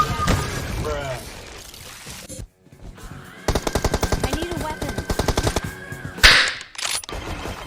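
Video game gunfire rattles out in rapid automatic bursts, close and loud, with short pauses between volleys while people talk and shout over it.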